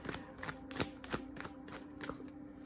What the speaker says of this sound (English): fast forward through me shuffling